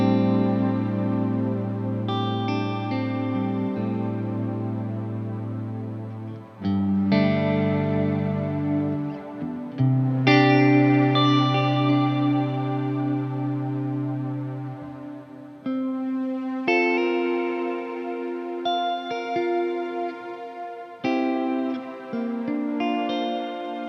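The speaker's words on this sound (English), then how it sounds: "I haven't heard a reverb pedal do anything like this." A Strymon Cloudburst ambient reverb pedal on electric guitar: sustained chords and notes swell into a lush, shimmering wash with long, overlapping tails. The loud, continuous playing changes every few seconds, with no talking.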